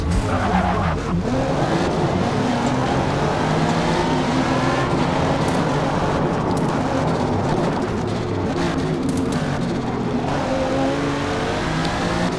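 Race cars lap a heavy track in Forza Motorsport with loud continuous engine drone, shifting revs and tire squeal, and several cars sound close together for the whole stretch.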